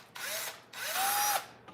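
Power drill boring holes into a toy car, two loud sustained whining bursts with rising pitch separated by a brief pause, close up with no talking.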